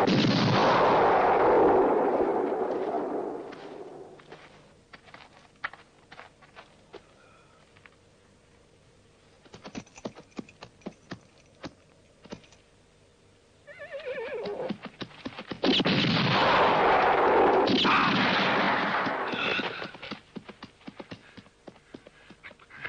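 Gunfire rings out in a Western film scene, loud shots and distant reports scattered across the middle stretch, with horses whinnying and hooves clattering in louder passages at the start and end.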